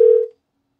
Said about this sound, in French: J'essaie de repasser l'appel là.